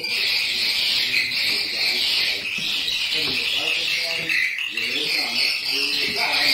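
Dense, continuous chirping of many swiftlets fills a swiftlet nesting house, a steady high twittering chorus that stays loud throughout with no gaps.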